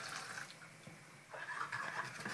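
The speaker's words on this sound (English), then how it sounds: "So we pour on stock" Stock being poured onto couscous in a bowl, a faint trickling, splashing liquid sound with a short pause partway through before the pour resumes.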